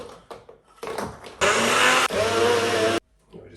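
A Nutribullet blender whirs loudly as it grinds 250 grams of Oreo cookies, a steady high-pitched motor roar lasting about a second and a half, followed by a brief stop and a shorter second burst, with quiet handling sounds around it.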